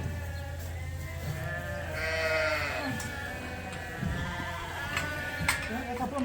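Sheep in a barn bleat repeatedly as they head to eat creep feed, several calls overlapping close by over a steady low background hum.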